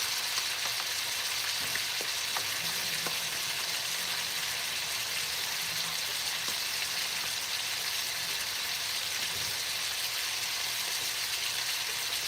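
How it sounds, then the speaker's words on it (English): Chicken pieces frying in a pan for Filipino chicken caldereta, an even, continuous crackling sizzle like steady rain, close and unbroken, with no talking. "Let that fry up."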